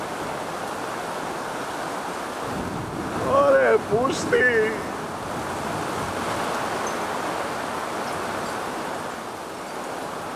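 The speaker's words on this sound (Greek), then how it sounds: "Καταιγίδα πραγματική." Heavy thunderstorm rain pours down outside a balcony, a steady, dense roar of water filling the whole span, with someone speaking briefly near the middle.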